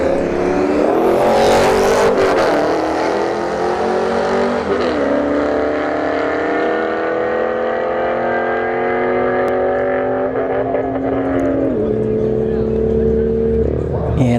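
A C5 Corvette and a BMW M4 launch side by side at a drag strip, their engines roaring loudly as they climb through repeated gear shifts over a sustained run.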